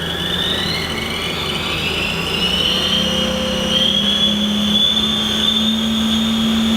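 A HAAS VF6/50 vertical machining center with a two-speed Cat 50 spindle gearbox shifts gears near 2000 RPM, a loud continuous machine drone with several whining tones that rise and slide in pitch.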